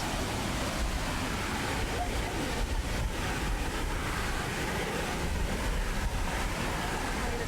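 Water rushing over the top of a dam spillway, a continuous loud roar with wind buffeting the microphone throughout.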